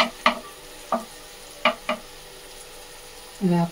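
Eggs poured into a pan beside ivy gourd curry pushed to one side: a few light utensil taps and clicks, then a short, close sizzle as the egg hits the hot surface.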